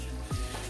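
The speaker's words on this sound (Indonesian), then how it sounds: "Goreng tahunya sampai matang" Tofu fries in a pan, a faint, close sizzle with a brief burst of bubbling spatter partway through.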